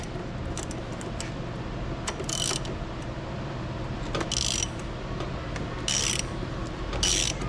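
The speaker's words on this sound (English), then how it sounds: "Let's get a socket on here." A socket ratchet turns on a bolt on a dented aluminum drive shaft, giving four short, crisp ratcheting bursts spaced a second or two apart over a steady low mechanical hum.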